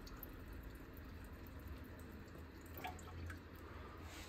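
Deionized water trickles and splashes steadily as it is poured into the cylinder bores of a Mini Cooper S engine, a soft continuous liquid sound close by with a few small drips.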